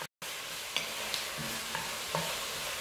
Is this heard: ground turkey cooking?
yes